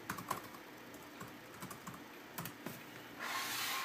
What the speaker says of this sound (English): I'll type my key real quick.